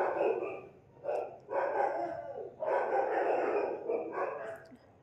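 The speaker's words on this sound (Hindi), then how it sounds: "बैकग्राउंड में एक्चुअली डॉगी भौंक रहे हैं" Two dogs bark in the background in repeated bursts of several barks each, fairly loud and somewhat distant, with no one talking over them.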